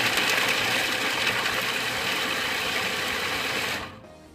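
Food processor pulsing as it chops four or five carrots, a steady loud whirring drone that holds for nearly four seconds and then cuts off abruptly into quiet.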